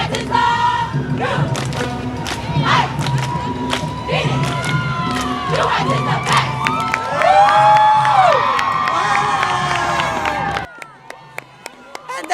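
A holiday parade crowd in a downtown street cheers and shouts loudly and steadily, with children's voices mixed in, a few thumps, and whistle-like tones over the noise before it drops off sharply near the end.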